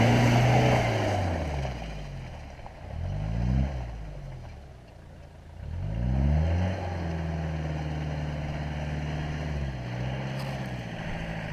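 A tractor engine near a dacha on a muddy spring off-road route, droning loudly and steadily with several rising and falling revs, heard from close by without talking.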